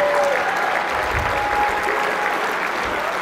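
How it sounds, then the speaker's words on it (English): Steady audience applause, many hands clapping continuously and evenly throughout, loud and close. "You didn't have to clap for them, really."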